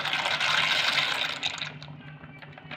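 A whole packet of macaroni is poured into a pot of water set to boil, giving a loud, close rush and splash that fades over a few seconds.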